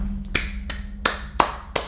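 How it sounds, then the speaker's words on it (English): Several sharp hand claps land at an unhurried, fairly even pace, five or six crisp slaps over a low background hum. "What you have won is a hand clap."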